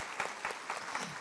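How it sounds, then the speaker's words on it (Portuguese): Audience applause for the teachers at an education event, a steady wash of clapping with a few louder bursts, moderately close. "salva de palmas para os professores"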